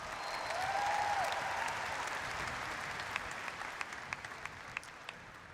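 Audience applause at a community college commencement ceremony, a steady wash of many hands clapping that swells early and then thins, with scattered individual claps standing out toward the end.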